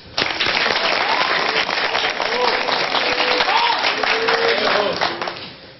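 Loud, sustained applause from a comedy show audience, with dense clapping and some voices and cheers mixed in, rising quickly and tapering off near the end.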